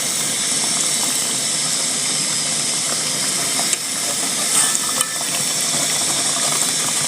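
Mandazi dough frying in hot oil, a loud continuous bubbling hiss with small pops throughout, no voices.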